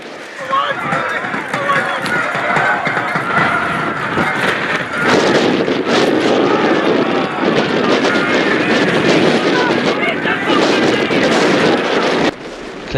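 Wind buffets the microphone at a wet, windy non-league football match, a continuous loud rumbling gust noise that persists throughout, with a commentator talking over it.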